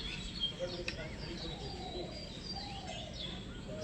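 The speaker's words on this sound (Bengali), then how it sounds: "ভোরবেলায় এরকম পাখির আওয়াজ শুনতে সত্যিই খুব ভালো লাগে" Birds chirping outdoors at dawn, with several thin, high chirps and tweets scattered across a steady, fairly faint background hum, the calls sounding moderately distant.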